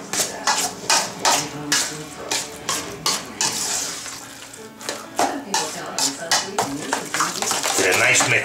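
Acorn squash lasagna ingredients mixed in a bowl, a spoon scraping and clanking in repeated strokes close by, with someone talking intermittently over the stirring.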